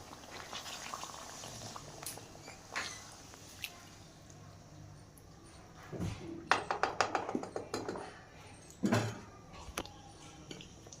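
Gentle bubbling of chicken simmering in about a glass of water in a pot, with soft pops and a few louder clinks and bursts of activity partway through.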